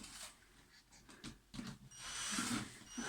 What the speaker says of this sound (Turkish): Bir tane daha oraya vida atsın baba.